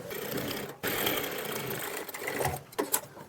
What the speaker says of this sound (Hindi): तो हमने यहाँ भी सेम सिलाई लगा देना है।